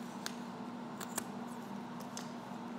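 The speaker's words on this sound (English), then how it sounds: "the next step is we're going to cut in the back, cut the strings out" Scissors snip through weaving strings at the back of a finished weave, giving a few sharp, quiet cuts spaced through a soft background hum.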